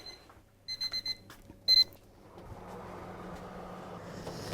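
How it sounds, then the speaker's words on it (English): An oven timer buzzer goes off for baked mince pies, sounding as a few short, close electronic beeps followed by a longer burst, then giving way to steady kitchen background noise. "So that buzzer now is my lovely mince pies."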